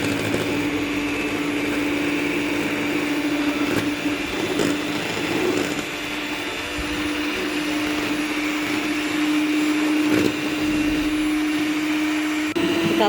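Electric mixer on its turbo speed beating cake batter with powdered sugar, a loud steady whirring hum that runs without a break, close up, with slight rattles from the bowl.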